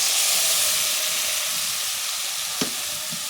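Spice paste hits browned fried onions in a hot pan and sizzles loudly, a steady frying hiss with a brief clatter near the end and no voices.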